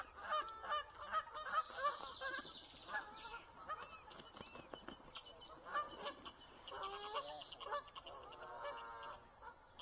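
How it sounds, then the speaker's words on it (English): Canada geese honk repeatedly in a loud, overlapping chorus outdoors by a fishing lake, with some wingbeats and calls rising and falling throughout, close to moderately near. "Yep, I shouldn't have said anything about the Canada geese."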